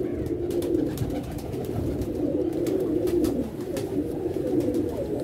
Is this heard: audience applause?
no